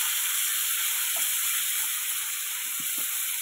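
Chopped jamun dropped into hot oil tempered with panch phoron, giving a steady, loud sizzling hiss that runs unbroken with a few faint clicks from the pan.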